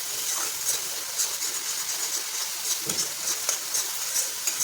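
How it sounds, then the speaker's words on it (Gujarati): Garlic paste sautéing gently in oil over a low flame gives a steady, soft sizzling hiss with faint crackles, close and continuous, without speech. "હવે આપણે આને 1 મિનિટ જેટલું આપણે એને સાતળીશું, લસણનો કાચો સ્વાદ જતો ના રહે ત્યાં સુધી।"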